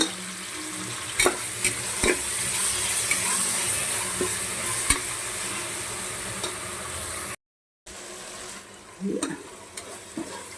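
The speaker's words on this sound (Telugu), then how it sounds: "అల్లం కలిపేసాను అల్లం ఉప్పు" Ginger and salt are stirred into mutton frying in a pan, with a steady sizzle and scattered scrapes and clinks of the spoon, close and fairly quiet, broken by a brief silent gap near the end.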